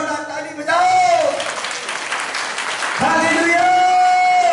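A church congregation claps loudly together in a sustained burst while voices call out over the applause.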